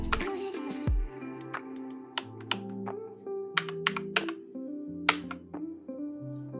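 AutoCAD commands are typed on a computer keyboard in scattered bursts of sharp, close clicks and key taps, with a soft tonal background underneath.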